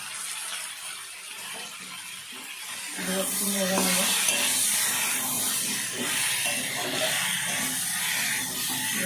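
Spices for a red lentil curry fry in a pan, a hiss and sizzle that swells louder partway through, steamy and continuous with occasional stirring.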